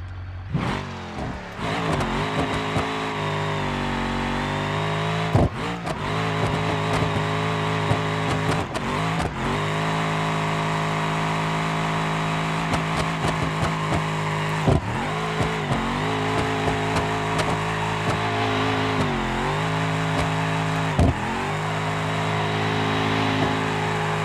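A car in the BeamNG.Drive video game doing a burnout with a sequential transmission, its engine revving hard and steadily at high pitch with brief dips as it holds near the limiter, loud and close throughout.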